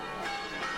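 A church bell in Vlčnov village rings in a short, dense sustained tone, full and resonant with overlapping overtones, steady throughout with no pause or talking.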